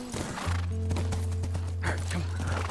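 A horse in The Last of Us video game clip-clopping with hooves in steady rhythm and a low droning tone underneath, close and clear for a few seconds.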